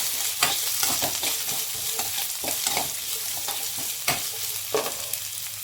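Green beans and carrots frying in a pan for an evening snack, a steady close sizzle with regular stirring scrapes and occasional sharper knocks of the spatula.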